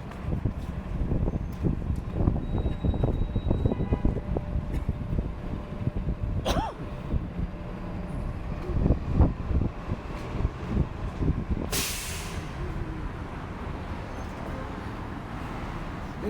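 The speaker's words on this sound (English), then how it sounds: "There's lots of buses coming by here." Heavy city buses and traffic roll past on Barrington Street in Halifax, a steady rumbling street wash with a couple of louder pass-bys and a hiss of air brakes, heard close from the sidewalk in the afternoon.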